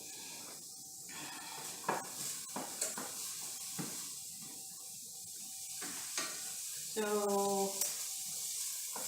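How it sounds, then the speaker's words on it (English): Diced onion sizzling in a heated skillet with a soft steady hiss, broken by scattered scraping stirs and a few clinks of the pan, fairly quiet and close, with a brief spoken word. "add 1 cup of diced onion to a heated skillet and cook it for about stir it"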